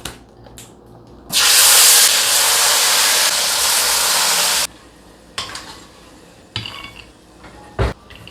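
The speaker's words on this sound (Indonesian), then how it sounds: "Kita goreng kacang dulu." Peanuts frying in a pan, a loud, steady hissing sizzle that bursts in and holds for about three seconds before stopping, followed by faint clinks and scrapes of kitchen utensils.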